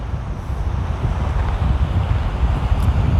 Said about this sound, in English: the sea, which is windy right now